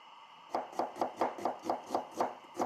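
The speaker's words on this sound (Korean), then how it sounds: "양파 1개도 손질한 후 채 썰어 놓습니다." A knife slices an onion into thin strips on a cutting board, about nine even, crisp chops in a steady rhythm, close and clear.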